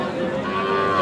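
A cow moos in one sustained, fairly loud call at a busy cattle market in Aftabganj, Dinajpur, where Friesian heifer calves are sold.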